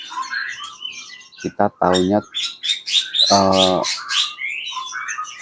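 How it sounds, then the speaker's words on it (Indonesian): Cucak kopi songbird in an aviary gives clear, loud chirps and a short trilled call among other scattered bird calls, with a person speaking close by at the same time. "kalau yang suara ini itu burung cucak kopi namanya"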